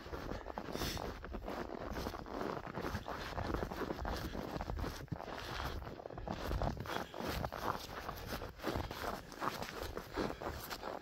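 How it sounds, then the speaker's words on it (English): Footsteps crunching on a steep dirt road in cold weather, steady rhythmic steps close by with light wind noise. "We'll keep walking down out of here."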